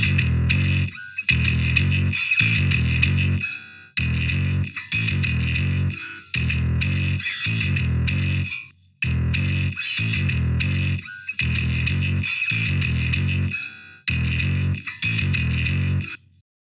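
A distorted metal bass guitar tone run through free plugins plays chugging, gated riffs in short repeated bursts with hard stops between, heard before and after compression, loud and alone throughout.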